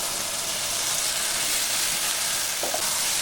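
Boiled banana flower stir-fried with spices and sugar in a pan, giving a loud, even, hissing sizzle close by with a brief stirring scrape near the end.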